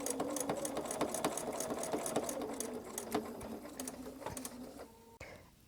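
A sewing machine fitted with a self-threading needle stitches in a fast, even mechanical rattle, running steadily at close range before stopping near the end.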